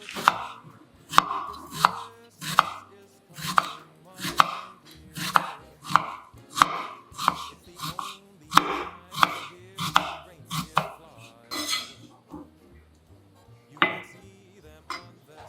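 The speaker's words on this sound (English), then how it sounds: "Thinly slice half onion." A knife thinly slices half an onion on a cutting board, loud close rhythmic chops in quick regular bursts, slowing and thinning out toward the end.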